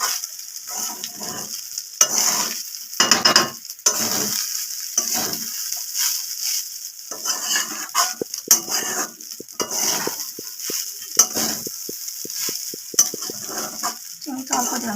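Leftover biryani rice, now vegetarian fried rice, stirred in a pan over a low flame, with a steady soft sizzle and repeated scraping, spatula-on-pan strokes running continuously throughout.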